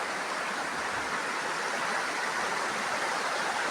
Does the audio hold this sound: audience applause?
no